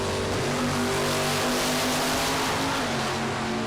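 A 1972 Oldsmobile 442 and a 1941 Willys drag race side by side, their engines producing a dense, loud, continuous roar that holds steady throughout.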